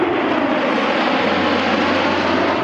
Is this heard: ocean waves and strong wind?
no